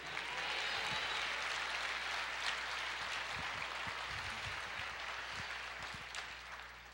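A church congregation applauds steadily in a dense, sustained wash of clapping that fades slightly toward the end, with a faint low hum underneath.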